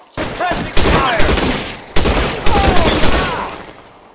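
Gunfire in the L.A. Noire video game during an arson case at an electroplating site, with dense bursts of loud, close shots in quick volleys, echoing amid shouted voices.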